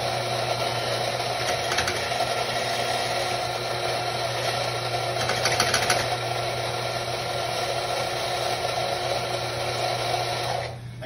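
An electric coffee grinder set to grind level 9 runs through beans in a steady, loud, continuous whirring drone for about eleven seconds, with brief rattling bursts before cutting off at the end.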